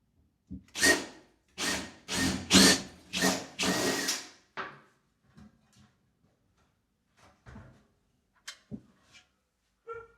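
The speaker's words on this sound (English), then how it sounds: "Just going to drill a pilot hole through and go and check" A power drill whirs in five short bursts, boring a pilot hole, close and loud, followed by quiet scattered taps and clicks.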